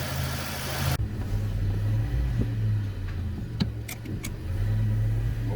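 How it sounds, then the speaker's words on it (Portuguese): A car engine rumbles steadily at close range as the car is driven out of a garage, with a low continuous drone and a few brief higher clicks and knocks partway through. "pegando o carro da garagem aqui"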